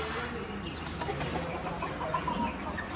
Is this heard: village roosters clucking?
yes